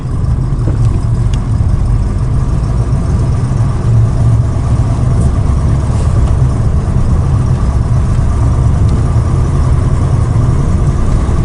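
A teal rear-wheel-drive car idles just after its first start in snowy conditions, a loud, steady low engine rumble held close and unbroken for the whole stretch.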